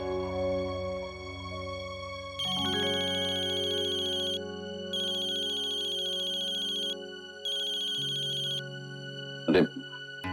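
An electronic phone ringtone plays in repeated bursts with short gaps, bright and clear, ending with a few clattering knocks.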